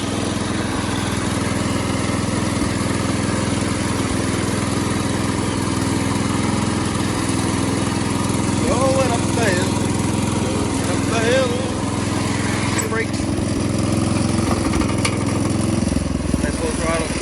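A Jacobsen Chief 1200 garden tractor engine runs loud and continuously after a cold start, a steady close mechanical drone with faint voices in the background.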